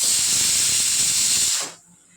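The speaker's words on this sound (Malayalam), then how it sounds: "നമ്മുടെ കുക്കർ ഇപ്പോൾ ഒരു അഞ്ച് വിസിലായിട്ടുണ്ട്" A kitchen pressure cooker vents a loud, steady hiss of escaping steam for about a second and a half, then stops abruptly, leaving faint room noise.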